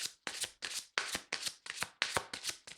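Tarot cards are shuffled in quick, close riffle bursts, about eight crisp papery flutters in a steady rhythm with brief gaps, heard alone and up close.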